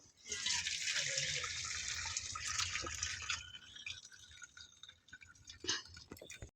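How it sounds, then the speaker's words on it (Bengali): Hot water poured off boiled elephant foot yam into a sink, a loud rushing splash that tapers into trickles and scattered drips, close by, with a faint voice in the background. "এবার জলটা ঢেলে নিয়ে আমরা ওলটা কাটি দেবো"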